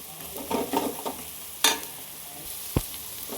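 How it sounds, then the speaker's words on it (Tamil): Chilli masala powder sautéed in oil for a traditional lentil-dumpling kuzhambu, with stirring scrapes, a sharp spatula clack and a brief sizzle, heard close and fairly quiet. "நல்லா அந்த மசாலாவும் எண்ணெயில் போட்டு இப்படி எண்ணெய் பிடிக்கிற அளவுக்கு வதக்கிட்டோன்னா"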